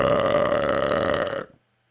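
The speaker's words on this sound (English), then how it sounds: "Is this some sort of platform for your belches?" A long, loud belch made right into a close microphone, one continuous rumbling burp lasting about a second and a half before it cuts off abruptly into silence.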